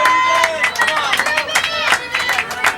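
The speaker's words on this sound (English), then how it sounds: "the crowd here is getting a little antsy" Spectators murmur and chatter restlessly at the 1996 Ektelon racquetball world championship men's final, a dense crowd hubbub with scattered claps and voices rising and falling throughout.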